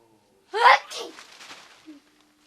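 A person gives one sharp, close sneeze with a breathy trailing exhale, then a brief quiet vocal sound, in an otherwise silent room.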